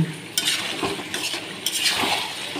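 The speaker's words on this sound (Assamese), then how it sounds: "ইফালে মাংস ভাজি আছোঁ" Broiler chicken meat frying in a pan on a gas stove and being stirred, with steady close sizzling and repeated scraping clinks of a utensil against the pan.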